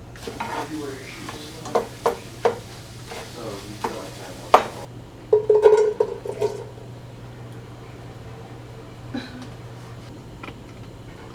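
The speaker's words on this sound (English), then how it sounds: "Let's scramble the eggs." Eggs being scrambled in a pan in a home kitchen, several sharp stirring and scraping strokes against the pan with light sizzling, then a brief louder clatter and quieter stretch, close by.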